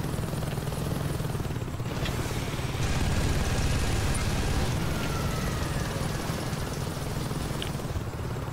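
A helicopter in the Saints Row 2 video game drones steadily and loudly with a continuous rotor and engine roar that holds throughout, no talk.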